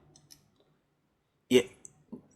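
A single sharp mouse click on the start button, close and isolated, with faint brief voice fragments before and a small tap after.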